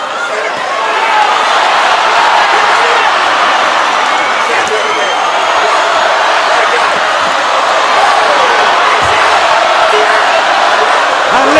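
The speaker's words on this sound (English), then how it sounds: "And listen to the crowd." A packed arena crowd roars steadily through a late round of the Claressa Shields versus Savannah Marshall boxing match, a dense wash of cheering that holds loud and unbroken for about twelve seconds.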